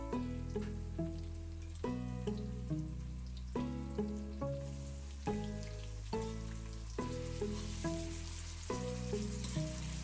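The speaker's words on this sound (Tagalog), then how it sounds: "Igisa lang muna natin and hayaan nating lumabas yung fat ng pata or pork hock." Pork hock sautéing with softened onions in a pan, a soft continuous sizzle under a dense, rhythmic pattern of repeated strikes and tones, fairly faint throughout.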